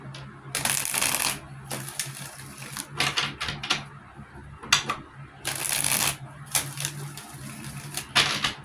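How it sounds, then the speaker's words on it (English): Tarot cards are shuffled in repeated bursts of crisp riffling and flicking, each burst a second or so long, close and fairly quiet against a low steady hum. "Let's shuffle."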